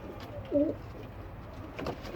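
A single soft pigeon coo sounds nearby in a quiet setting, followed by faint rustling.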